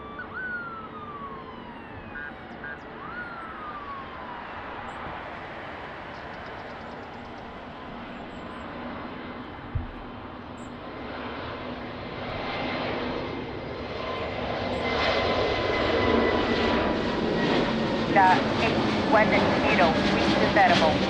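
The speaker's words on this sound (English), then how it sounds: "Iberia taking off to Madrid" An Iberia airliner takes off from Lisbon Airport bound for Madrid, its engine roar building steadily from a distant whine to a loud, broad rush, with radio talk heard over it.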